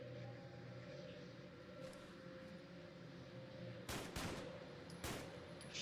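Two sharp gunshots from a weapon in the post-apocalyptic shooter Fallout London ring out late, over a steady low game ambience with no talk.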